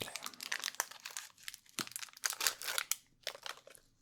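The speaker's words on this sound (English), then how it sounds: "It's very crinkling." A wrapper from Fresh and Fruity sugar-coated gummy candy crinkles close to the microphone in quiet, irregular bursts of crisp rustling separated by short pauses.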